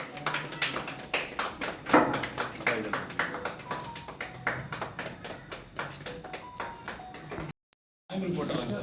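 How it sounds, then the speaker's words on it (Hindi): Audience clapping at a journalists' press club meeting in Kaptanganj, Kushinagar, a sustained run of close, dense claps with some voices mixed in, breaking off briefly near the end before resuming. "ताली बजाइए आप लोग।"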